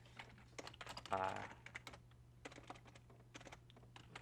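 Quick clattering keystrokes on a computer keyboard while writing LWJGL 3 code, in uneven bursts with a brief louder flurry, under a faint hum, and a voice briefly speaks.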